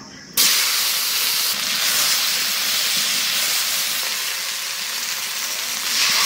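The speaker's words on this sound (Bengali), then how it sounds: "পেঁয়াজ টমাটোর কুচি দিয়ে দেবো।" Chopped onion and tomato hit hot oil for a small fish curry and burst into a loud, steady sizzle that starts abruptly and holds without letting up, with no voices over it.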